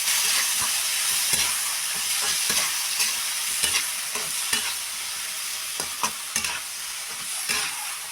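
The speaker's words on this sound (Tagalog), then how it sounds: "Ayan guys, niluluto na natin yun." Food cooking in a pan on a stove, with a steady loud sizzle and scattered clicks and scrapes of stirring throughout.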